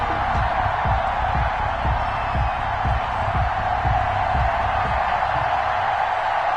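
Stadium crowd in an EA Sports NFL video game, Dallas Cowboys vs Arizona Cardinals: a constant loud roar of cheering fans, steady and dense throughout with a faint rhythmic thumping underneath.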